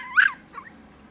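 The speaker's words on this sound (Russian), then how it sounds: "Я думаю, она от эмоций просто так сейчас лает" A white mini Pomeranian spitz puppy playing on grass gives one sharp, high yip, followed by a softer, shorter yelp; the sounds are close and there is no talk.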